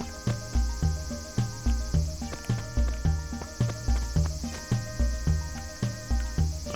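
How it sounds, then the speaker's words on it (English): Brown cicadas in the Animal Crossing video game give a steady, high buzzing drone throughout, partly masked by louder, rhythmic, bouncy in-game background music. "Brown cicadas are everywhere."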